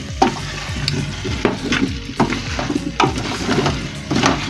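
Matoke, meat and potatoes are stirred in a big sufuria, and a spoon scrapes and knocks in irregular strokes over a soft frying sizzle, close and moderately loud with no talking.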